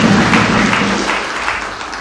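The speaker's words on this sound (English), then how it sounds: "Let us a round of applause." A crowd claps at a political gathering in Nairobi, a dense burst of applause that is loud at first and tapers slightly over two seconds.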